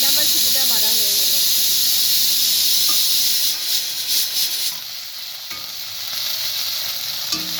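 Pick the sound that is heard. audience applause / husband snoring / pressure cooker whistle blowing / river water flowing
pressure cooker whistle blowing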